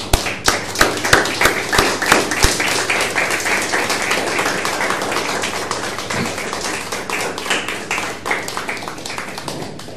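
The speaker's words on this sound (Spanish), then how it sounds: "Démosle palmas al Rey." A church congregation clapping together in praise, a dense, loud run of rhythmic hand claps that carries on steadily for several seconds and eases off slightly toward the end.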